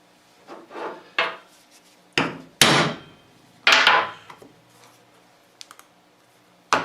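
Several sharp hammer strikes on a metal punch driven through rubber, spaced irregularly, each with a brief ringing decay, followed by a few faint light taps.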